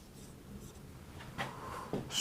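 Chalk or marker scratches across a board during a maths lesson on number systems, a couple of short rubbing strokes close by over a quiet room, with no talk.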